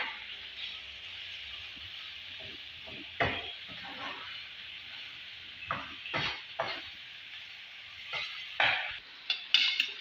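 A pan of sauce seasoned with spices, a seasoning cube and scent leaf sizzles with a steady, hissing fry, broken by several sharp scrapes and clinks of a stirring utensil against the pan.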